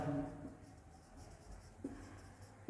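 Chalk or marker scratching out a subtraction step of equations on a classroom board for a Class 9 real numbers lesson, a steady faint scribbling with a few brief taps, close by and alone.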